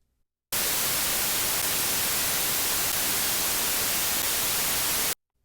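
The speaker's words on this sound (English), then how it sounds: "And so now we have 20 seconds of white noise." Steady white noise generated in Audacity software: a loud, uniform hiss that starts abruptly, holds constant for about four and a half seconds, then cuts off.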